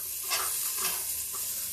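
Chopped bottle gourd frying in a pan makes a close, steady sizzle, with a few soft stirring swishes rising above it in a short stretch without speech.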